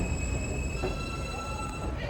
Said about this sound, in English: train's right there.